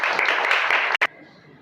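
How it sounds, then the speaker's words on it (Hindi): A congregation applauds in a church prayer broadcast studio, a steady wash of hands that cuts off abruptly, gives one short burst, then fades to quiet room tone. "खुदाम के खादम को वेलकम करने के लिए जोरदार तालियां।"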